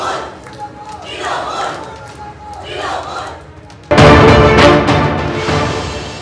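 A crowd of Trinamool supporters shouts rhythmic political slogans in unison at a party meeting, loud chanted phrases that repeat in waves and then swell into an even louder roar.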